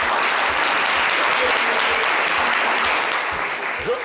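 Loud, dense applause from a studio audience fills the whole stretch as a steady wash of many hands clapping at once, close and sustained, on a live French-language talk show.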